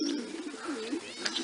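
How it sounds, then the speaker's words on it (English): Pigeons cooing at a backyard loft landing board, a steady low warbling coo repeating through the clip with faint higher chirps, fairly close and moderately loud. "Look, Elvis, there's a bunch more pigeons you can try to woo in there."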